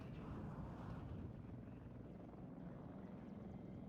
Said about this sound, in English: Me-24 helicopter in a nice spot